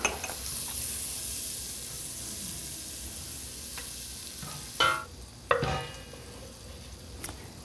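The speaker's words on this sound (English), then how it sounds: "in a heavy bottomed soup pot, put a 1/4 cup of butter and just let that melt" Butter melting in a heavy-bottomed soup pot, a soft steady sizzle broken near the end by a few clanks and scrapes of utensils against the pot.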